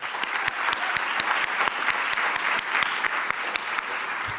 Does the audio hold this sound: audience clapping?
yes